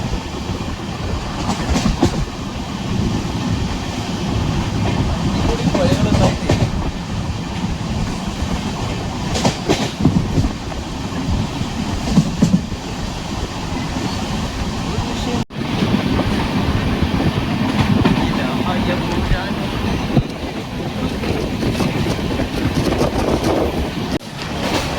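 A train running along the Konkan railway route between Goa and Karnataka, a steady loud rumble with rhythmic clickety-clack of wheels and wind buffeting, continuous from onboard with no talk.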